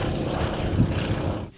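A radio-controlled model Yak-55M aerobatic plane, with an engine a little more powerful than a motorcycle's, drones steadily in flight, loud and continuous before cutting away abruptly at the end.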